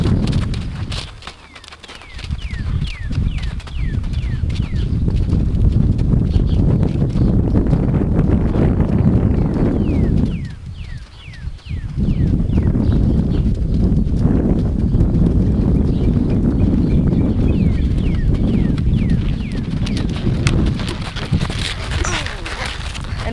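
A horse canters on the wrong lead going left in an outdoor arena, hooves drumming in a steady three-beat rhythm under loud wind buffeting, with a brief lull midway and a few birds.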